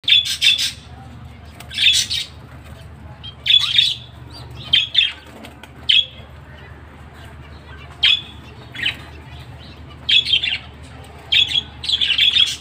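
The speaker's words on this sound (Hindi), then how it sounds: "इस वक्त जो है बर्ड्स की आवाज़ें बहुत प्यारी लग रही हैं" Pet finches and parrots calling in bursts, sharp high chirps and squawks repeating every second or two over a steady low hum, with a few wing flutters and no talking.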